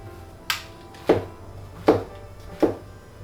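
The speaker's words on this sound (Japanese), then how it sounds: "エリンギは半分にして薄切りに" A knife slices halved king oyster mushrooms thinly on a cutting board, four separate crisp cuts spaced evenly and heard close by, with quiet between them and no talking.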